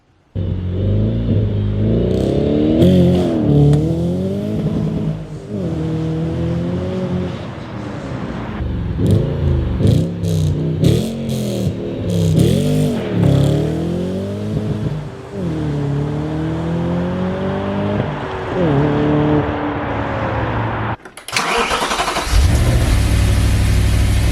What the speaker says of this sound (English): The exhaust note is like a tribute to Pavarotti. Listen to this.